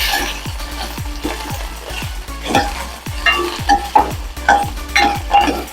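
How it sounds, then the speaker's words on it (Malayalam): Cubed potatoes for aloo gobi masala are stirred in a pan on low heat, each spatula stroke scraping sharply across the metal in a steady repeating rhythm over a soft, continuous sizzle, close up, with no talk. "നമുക്ക് ഇതിന്റെ മൂടി ഒന്ന് തുറന്ന് ഇളക്കി കൊടുക്കാം."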